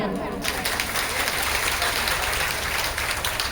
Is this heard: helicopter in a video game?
no